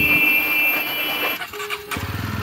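A Jawa motorcycle engine runs nearby with a steady throb, its tone shifting partway through before settling into a rhythmic, pulsing idle toward the end.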